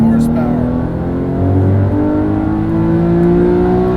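A Porsche 997 GT3 RS 4.0 with its 4-liter Metzger flat-six revs loud and close toward 8,250 rpm, a steady rising tonal howl heard from inside the car.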